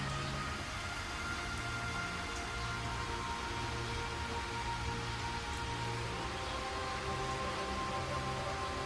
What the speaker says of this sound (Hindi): ये तो बहुत ज्यादा तेज बारिश हो रही है